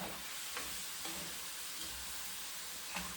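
Bok choy and tofu stir-frying in a pan, a steady low sizzle with faint scraping stirs at a regular pace, close and fairly quiet throughout.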